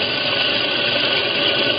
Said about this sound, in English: And let's get as far down as the drill bit will let me to go.